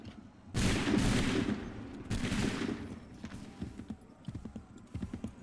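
Volleys of musket gunfire crash out in a video game battle from Assassin's Creed III Remastered, two loud, dense bursts a second or so apart, followed by scattered fainter pops and clatter.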